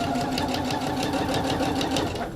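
A sewing machine back stitches fabric binding at a mitered corner, running loud and continuous with a steady rapid stitching pulse throughout.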